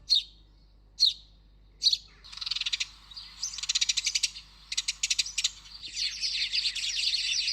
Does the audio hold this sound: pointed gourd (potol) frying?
no